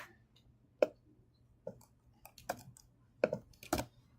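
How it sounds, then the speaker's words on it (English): Sparse keystrokes on a computer keyboard, about six or seven sharp clicks spaced irregularly over a quiet low hum, close and fairly soft. "I'm just going to keep typing more."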